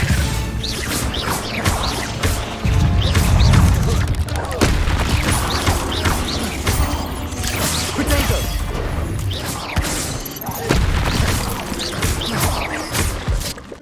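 Incendio fire spell cast in Hogwarts Legacy, a loud burst of roaring, crackling fire and impact booms over dense game music and effects, sustained for several seconds.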